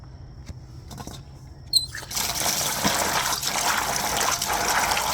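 Water gushes and splashes into a dish as gungo peas are washed for Jamaican stew, a steady close running-water sound following a few small clinks.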